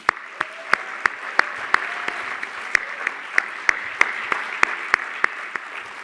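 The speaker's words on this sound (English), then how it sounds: "let's give them applause for." An audience at a plenary luncheon claps steadily, a sustained wash of applause with sharp individual claps standing out near the microphone.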